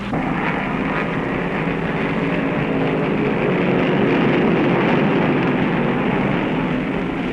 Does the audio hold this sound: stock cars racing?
yes